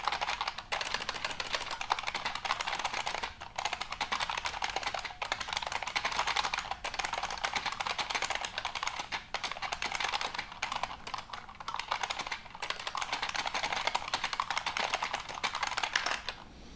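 Steady, fast clicking of computer keys being typed on, close and continuous for the whole stretch with only brief pauses, no voices.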